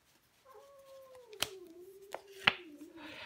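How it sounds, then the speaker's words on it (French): A house cat yowls in a long drawn-out, wavering meow, fairly faint indoors, with a few sharp clicks and taps heard alongside. "j'ai mon chat qui fait du bruit maintenant"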